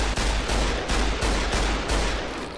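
Rapid gunfire in Fallout: New Vegas, a dense, loud burst of repeated shots with sharp, closely spaced cracks sustained across the whole stretch, no talking over it.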